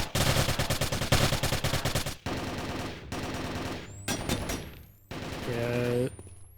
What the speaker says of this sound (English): Getting some shots traded through the vent here.